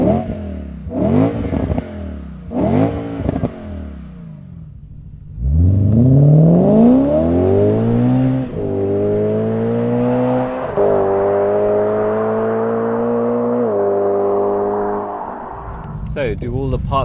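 A BMW E91 M3 GTS Touring with a naturally aspirated 4.6L S65 V8 pulls away after a few short blips, then climbs steadily through several gear changes, the engine note rising and dropping at each shift, loud and close throughout.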